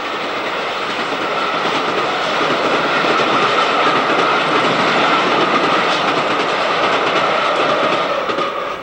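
A passing steam locomotive hauling a passenger train of Mark I and Southern Railway coaches rumbles steadily with rhythmic clickety-clack of wheels on rails, a continuous loud roar that builds and holds without voices.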